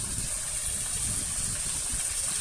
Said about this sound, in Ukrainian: водопад, озеро, шум води